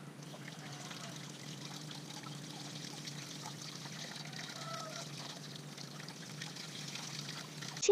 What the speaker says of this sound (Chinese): 清水冲洗。